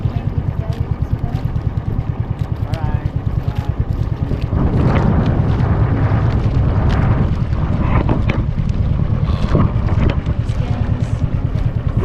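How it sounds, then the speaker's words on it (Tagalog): Strong wind gusts buffet the microphone outdoors in a loud, continuous roar, with a steady low engine drone running underneath throughout. "Hingoros-horos ng hangin."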